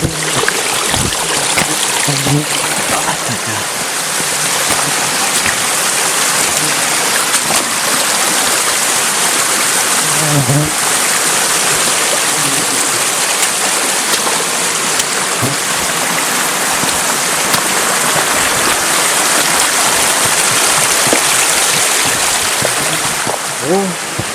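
A mountain stream in the Polar Urals rushes and splashes steadily beside a hiking trail, a close, continuous broadband water noise, with occasional faint voices and footsteps mixed in.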